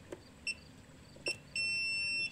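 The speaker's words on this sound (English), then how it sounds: "it makes a sound when I get good continuity" Multimeter continuity beeps while probing a part from an RV water heater that won't ignite or stay lit: two short beeps, then a steady tone lasting almost a second, close and clear over a quiet background.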